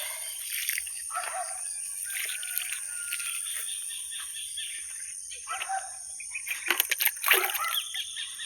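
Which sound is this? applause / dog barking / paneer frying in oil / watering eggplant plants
watering eggplant plants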